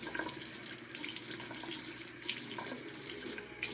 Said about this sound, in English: So yeah, when you're washing this off, just use warm water so it'll come off good.